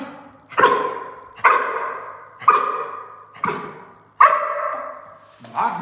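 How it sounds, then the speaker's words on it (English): A dog barks five times at steady intervals, loud and close, each bark sharp with a short trailing tail, the last one clipped at the end. "Just waited for a good bark."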